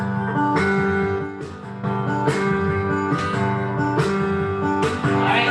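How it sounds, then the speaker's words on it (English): Music plays from a phone during a family mindfulness and yoga session, a steady melodic tune with regular rhythmic accents, fairly loud and alone. "I'm using my phone to play music."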